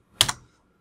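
Two quick keystrokes on a computer keyboard, close and crisp, a brief double click that fades into near silence.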